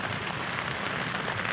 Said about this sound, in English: It's been raining for the last hour ever since I got here.